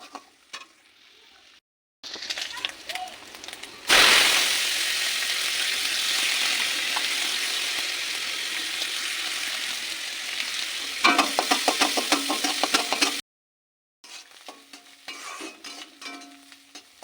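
Potato chowmein stir-frying in a pan with green chilli, a loud continuous sizzle with clattering spatula strokes toward the end, broken by short gaps of near silence before and after.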